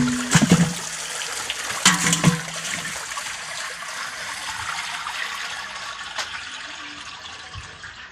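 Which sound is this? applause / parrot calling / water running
water running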